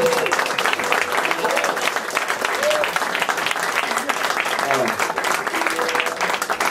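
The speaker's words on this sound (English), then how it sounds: "can I just have a round of applause for the beautiful ladies?" Sustained audience applause fills a concert hall at Rockwood Music Hall, a dense steady wash of clapping with faint tonal traces of voices or instruments beneath it.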